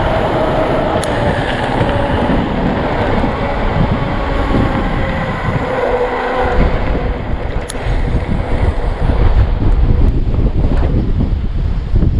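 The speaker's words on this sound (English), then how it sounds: "Feel that wind from the left hand side now" Strong wind buffets the microphone from the left side out in the open countryside of Upper Teesdale, a loud, continuous roaring rumble with gusty fluctuations throughout and no voices.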